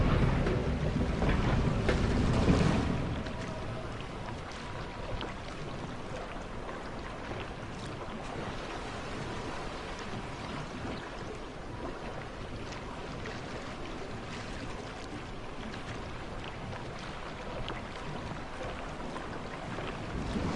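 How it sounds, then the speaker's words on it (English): Steady rushing water and wind-like ambience around a log flume ride in a theme park video game, a louder surge at the start settling into a continuous even wash with no talk. "I really love that log flume."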